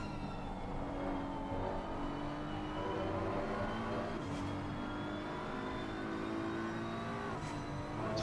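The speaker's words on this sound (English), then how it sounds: "The low grunt of the BMW is great." A BMW GT3 race car in a sim-racing game at Imola, its low grunting engine droning steadily with rising and falling revs through gear changes, loud and continuous.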